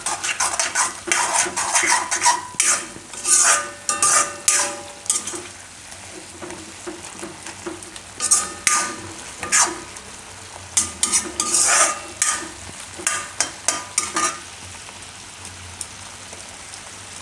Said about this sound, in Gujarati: હવે એને મિક્સ કરી લેવું. ગેસ ફૂલ કરીને થોડીક વાર પકાવી લેવું.